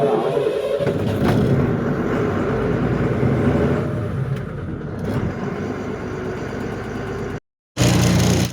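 Lorry engine running at a steady idle, a continuous low mechanical rumble that stays loud and unbroken, cuts out briefly near the end, then returns at full strength.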